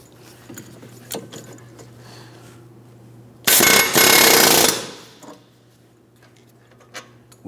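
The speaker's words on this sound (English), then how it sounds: "other times it may be helpful to use an air hammer" An air hammer tapping out a rear strut bolt on a 2004-2008 Pontiac Grand Prix, a loud, close rattling burst of about a second and a half, with quiet clinks and workshop handling before and after.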